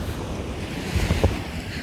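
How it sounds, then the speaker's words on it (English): Calm ocean waves lapping gently on a shore, a soft continuous wash of surf with light wind noise and a few slightly louder low splashes near the middle. "Notice how that ocean, it's just lapping."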